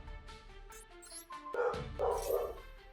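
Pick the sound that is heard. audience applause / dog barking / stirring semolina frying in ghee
dog barking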